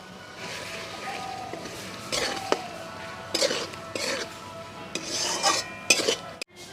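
A spoon scrapes and clatters against a pan as mustard-poppy seed paste and potatoes are stirred together, in irregular bursts over a low background hiss, with no talking.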